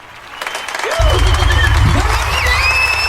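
An audience at a New Year's Eve awards show breaks into loud applause and cheering, building over a second into a full roar of clapping and whoops, with voices calling out through it.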